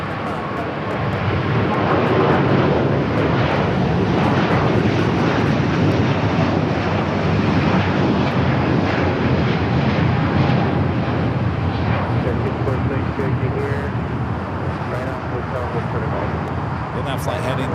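Aircraft engines roar at Los Angeles International Airport as a Delta A350 bound for Shanghai moves near the runways, a loud sustained rumble with windy noise, steady throughout without a break.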